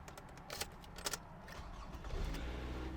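A car that had a dead battery starting up after a jump start, with a brief crank followed by a steady idle that settles in and grows slightly louder. Outdoor background noise is present and no one speaks.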